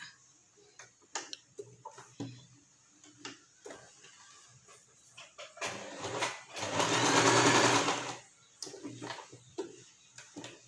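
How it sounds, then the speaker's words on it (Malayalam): A sewing machine stitches the curved edge of a full-circle umbrella frock, giving short bursts of rapid ticking stitches separated by pauses, then one longer steady run near the middle. "സൂചി അവിടെ കുത്തി നിർത്തിയതിന് ശേഷം തിരിച്ചിട്ട് പിന്നെ സ്ട്രെയിറ്റ് ഈ അറ്റം ഇങ്ങനെ തയ്ച്ചെടുക്കുക"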